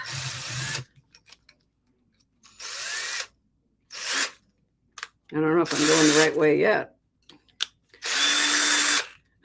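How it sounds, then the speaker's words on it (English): A power drill whirs in several short bursts separated by pauses, with a person speaking briefly between runs. "I don't know why my drill is not behaving itself today."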